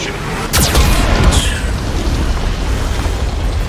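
Geth cannon blasts in Mass Effect 2 Legendary Edition, a loud close boom with a sharp crack followed by a second impact, then a long rumbling decay under constant low roar.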